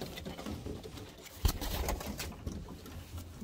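Pigeons in a loft give soft, low coos in the quiet, close by, with a slight bump of movement partway through.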